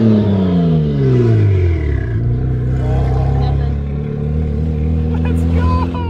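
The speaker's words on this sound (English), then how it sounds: "Let's get a good downshift." A car engine with an aftermarket air intake drones loudly, its pitch dropping then climbing again as it revs through a downshift, steady and close throughout.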